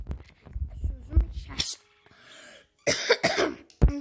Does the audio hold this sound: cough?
yes